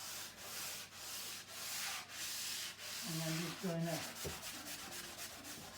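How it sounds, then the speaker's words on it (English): Rough scraping strokes of an 80-grit sanding pad rubbing back and forth on a countertop, steady and close, with a few brief words spoken partway through. "I'm using the 80 grit side of this little sanding pad"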